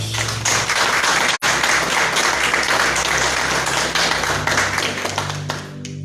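Church congregation clapping and applauding loudly and steadily for several seconds, with a brief break near the start and a faint tonal hum underneath before it fades at the end.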